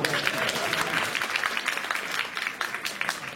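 Steady applause from a comedy show audience, dense clapping filling the whole stretch at a fairly loud, even level.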